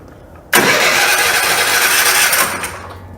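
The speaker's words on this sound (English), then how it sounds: "This engine does not like to start without being choked." A 2016 Bad Boy Maverick mower engine catches abruptly and roars loudly for about two seconds, then drops toward a lower running sound; close by, no talking.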